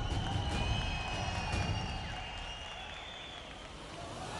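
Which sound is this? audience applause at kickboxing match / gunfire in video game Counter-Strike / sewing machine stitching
audience applause at kickboxing match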